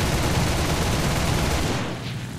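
Rapid machine-gun fire from a Focke-Wulf 190 A-4 fighter in War Thunder, a loud continuous burst of gunfire that carries on for about a second and a half and then breaks off into quieter engine noise.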